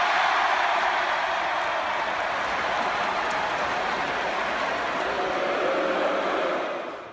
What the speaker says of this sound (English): The crowd cheering for the kid shown on the Jumbotron and then booing when she is taken off.